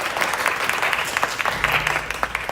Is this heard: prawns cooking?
no